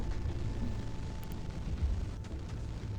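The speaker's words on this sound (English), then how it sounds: "So this battleship is taking a little bit of damage from where the 450s are landing" Naval shells from 450 guns explode against a battleship in the Nebulous: Fleet Command video game, heard as a low, rumbling, continuous boom of distant impacts, fairly faint and steady throughout.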